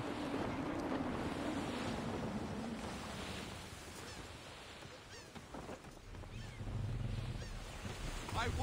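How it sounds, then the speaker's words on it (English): Wind and surf from sailing a ship in Assassin's Creed 3 Remastered on Switch wash steadily with a gusty, rushing roar and lapping waves, moderately loud, with a voice and game dialogue over it. "Yo, that wind is blowing, my guy."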